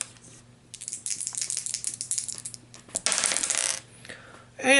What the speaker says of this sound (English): and re-roll those 2 dice.